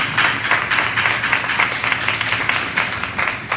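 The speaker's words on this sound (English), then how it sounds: "Clap your hands and give the Lord a hand." A church congregation claps hands together in a continuous, steady burst of applause, close and fairly loud throughout.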